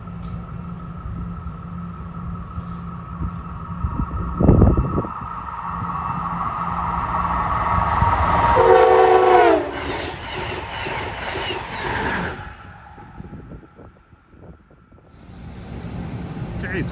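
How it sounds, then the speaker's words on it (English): Amtrak train 649 from New York to Harrisburg pulls in cab car first, a broad rumble building with a whine of horn or brakes and a brief squeal, then easing off under light background noise. "Approaching 3:27 is train 649, New York Harrisburg. Cab car first."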